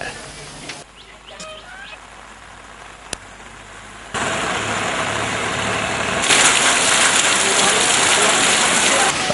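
Steady rain pours over flooded low-lying streets and a submerged sports ground in Ratnapura as the Kalu Ganga river rises, a continuous broadband hiss that grows louder partway through with a faint engine rumble beneath.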